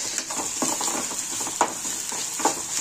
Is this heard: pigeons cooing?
no